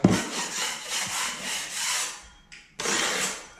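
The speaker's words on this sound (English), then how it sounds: "I'm just going to carefully gouge into the corner there" A tool gouging into a ceiling corner during popcorn ceiling removal, heard as continuous close rasping scrapes that pause briefly near the end and then resume.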